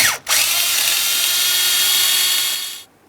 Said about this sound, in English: we're going to remove the 2 screws that are located inside this area